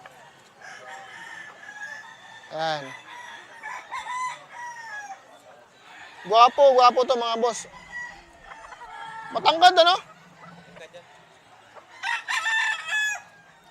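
A young, tall seven-month-old Atlantica bulik gamefowl rooster crows loudly several times, in long strained cock-a-doodle-doo calls spaced a few seconds apart, with clucks and someone talking softly between them.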